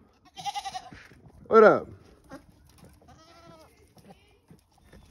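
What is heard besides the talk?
goats bleating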